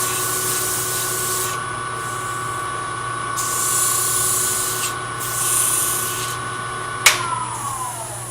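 Cloth sandpaper rubbing a turned wooden miniature box spinning on a lathe, a steady continuous scratchy hiss over the motor's hum, swelling in a few longer passes with a short sharp knock near the end.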